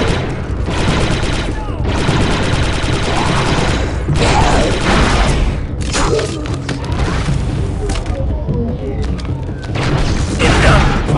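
Gunfire from the Star Wars game Republic Commando: dense, continuous bursts of automatic blaster fire mixed with booming explosions and clanking mechanisms, loud and close throughout, with occasional voices underneath.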